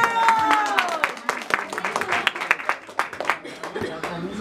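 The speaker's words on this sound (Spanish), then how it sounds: "la escuchamos con un fuerte aplauso" Applause for a girl's quinceañera celebration with a youth mariachi, clapping bursting out under a lively room while voices keep talking over it.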